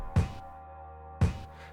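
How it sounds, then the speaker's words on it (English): Two punchy kick drum hits about a second apart in FL Studio, each with a bright attack and a sustained tonal tail in between. "It's like the higher side of the kick."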